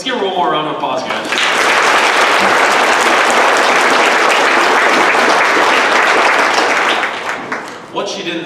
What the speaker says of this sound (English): Let's give her one more round of applause, guys.